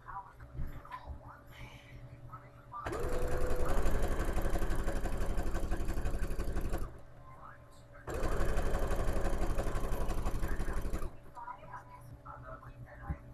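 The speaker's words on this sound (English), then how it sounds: "So I did a zigzag stitch." A sewing machine zigzag-stitches fabric for an under-scarf in two steady, loud whirring runs of a few seconds each. Soft whispered talk fills the quiet gaps around them.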